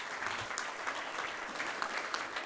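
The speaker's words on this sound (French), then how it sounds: "Je pense qu'on peut les applaudir." Conference audience applauding a panel of energy experts, a steady wash of many hands clapping at moderate distance, continuous for the whole stretch.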